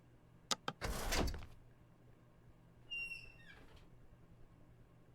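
In the video game Project Threshold, a short mechanical door slides open with a whoosh and clunk, followed by a brief electronic chime and a fading swish in a quiet room.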